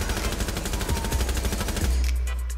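Rapid automatic gunfire in Rainbow Six Siege, a dense run of close, loud shots lasting a couple of seconds, then a heavier blast and ringing tail at the end.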